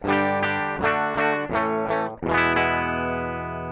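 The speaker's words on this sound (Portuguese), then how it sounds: "Esse é o som de DI da guitarra, com o plugin desabilitado." An electric guitar played through a clean DI signal with the plugin disabled: several sustained chords or notes struck in quick succession, the last ringing out, bright and loud with no voice.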